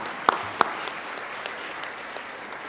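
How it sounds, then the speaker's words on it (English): An audience at a storage-systems conference's opening session applauds steadily, soft and diffuse across the room, with a couple of sharper claps close by near the start. "I hope you will clap too."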